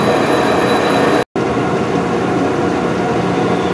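Metal lathe turning an axle with a high-speed steel cutting tool, a steady loud broadband machining roar held throughout, broken only by one brief dropout.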